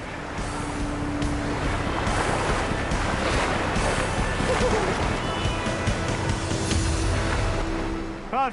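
Seawater surges and washes against the shore where a fishing net is let out into the sea and hauled back toward the beach, a steady, close roar of surf mixed with wind buffeting the microphone.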